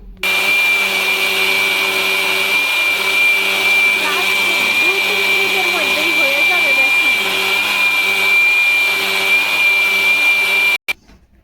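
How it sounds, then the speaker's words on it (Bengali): An electric blender grinds gram flour (besan) at home, a loud continuous whining roar running nearly eleven seconds before cutting off abruptly. "এই যে ব্লেন্ডারে দিয়ে দিলাম এখন বেসন করবো কিভাবে দেখো"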